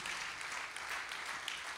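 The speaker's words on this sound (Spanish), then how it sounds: "Un aplauso fuerte al Señor" Church congregation applauding during a sermon, a steady wash of clapping at moderate level for under two seconds with no clear voices on top.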